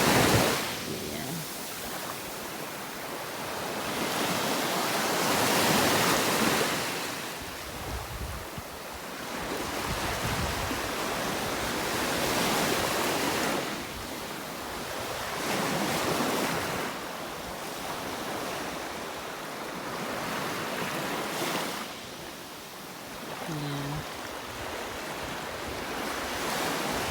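Ocean waves roll onto Winnifred Beach in Portland, Jamaica, a steady broadband wash that swells and recedes every few seconds with some wind buffeting the microphone.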